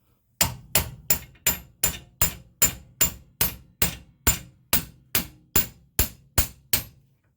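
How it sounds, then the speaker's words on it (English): Sixteen sharp, evenly spaced metal hammer blows ring out close and loud, driving a Rover Mini Cooper's lower suspension arm down onto its ball joint nut, each strike decaying quickly before the next, with no talk. "So first thing I need to do is just hammer that home a bit more, so that the lower arm is sitting on the nut."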